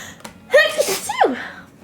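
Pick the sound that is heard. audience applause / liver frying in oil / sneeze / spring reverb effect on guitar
sneeze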